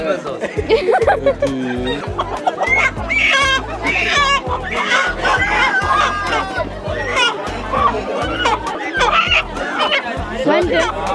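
Chickens cluck and chatter in a busy yard, with a rooster among them, while people talk over the flock throughout.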